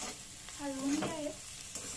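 A turmeric tempering is stirred in a frying pan for leftover roti poha, with a soft, close sizzle and a few scraping strokes, fairly quiet and without speech.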